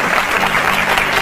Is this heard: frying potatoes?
no